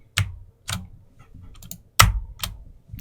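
Computer keyboard keys are pressed in a few separate clicks during Unity work, with irregular spacing and one sharper tap, close and clear in a quiet room.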